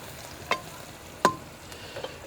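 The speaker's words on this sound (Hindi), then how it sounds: "प्याज हमारे जो है वो फ्राई हो रहे थे।" Onions frying in a pan in a Pakistani village kitchen make a faint, steady sizzle, with a few sharp utensil clicks from stirring.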